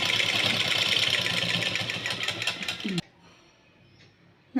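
A sewing machine stitches fabric in a rapid, continuous mechanical whir during a basic tailoring class, then stops abruptly into near silence, with a faint click at the end.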